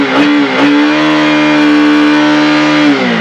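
A motorcycle engine idles loudly and steadily close by inside a bedroom, with a couple of quick blips of the throttle near the start.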